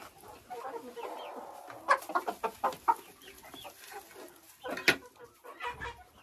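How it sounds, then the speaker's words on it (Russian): Chickens cluck and call in a coop crowded with chicks, a run of short sharp squawks and clucks close by, with some lower murmuring underneath. "Полный курятник цыплят."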